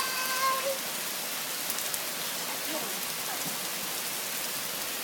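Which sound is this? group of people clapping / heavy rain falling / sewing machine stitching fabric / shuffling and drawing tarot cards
heavy rain falling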